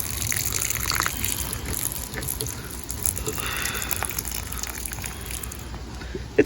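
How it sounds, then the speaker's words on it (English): Water poured from above over trays of sprouting microgreens, radishes and probably kale, making a steady, close, moderately quiet wash of splashing and trickling that runs the whole time without talk. "Let's give them some water."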